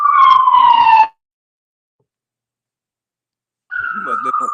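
Loud police siren wails sound in two bursts, a falling tone at the start and a steady wail returning after a stretch of silence, heard during a street-side interview.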